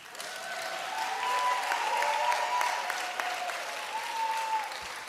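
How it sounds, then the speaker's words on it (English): Audience applause fills a church, a steady dense wash of clapping at moderate level that holds for several seconds with faint whoops and cheers riding over it. "now let's give AHF and Black a round of applause as if they sponsored this"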